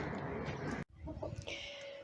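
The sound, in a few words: young chicks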